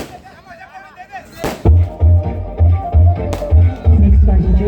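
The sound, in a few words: fireworks at a kabaddi match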